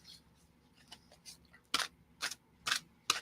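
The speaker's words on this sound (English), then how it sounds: "3-card reading with the 4-card shuffle." Tarot cards being shuffled by hand in a quiet room: a few soft riffles followed by four crisp, distinct snaps spaced about half a second apart, close and clear with no talk.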